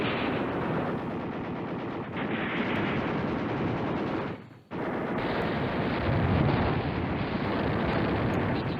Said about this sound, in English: Let me just throw this airstrike